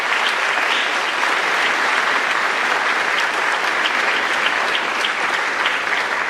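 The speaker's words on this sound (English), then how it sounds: "Let's go ahead and give that group a round of applause" Sustained, loud applause fills a hall at a senior scholarship night as the audience claps for a group of recipients, a thick even roar of many hands that holds steady throughout.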